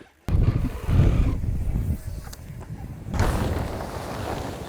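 Wind buffets the microphone at an outdoor slopestyle ski training session, making loud, uneven low-pitched rumbling gusts that rise and fall throughout, with no talking.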